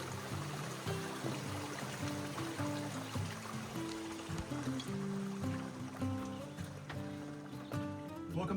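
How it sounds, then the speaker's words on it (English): Wildcat Run, a stream along the Tuscarora Trail, flows briskly, with a continuous babbling, gurgling wash and bright trickling tones close by and steady throughout. "it looks like Wildcat Run is flowing pretty good"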